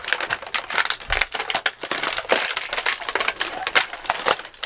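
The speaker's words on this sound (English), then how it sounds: "Who cares? Just rip it open." Crinkly plastic toy packaging being torn open by hand, a run of sharp crackling rips and rustles close by, with no talking.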